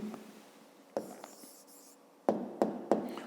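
Pen or pencil writing out the answer to a fifth-grade maths exercise, with soft continuous scratching strokes broken by several sharp taps, close and quiet, no talking.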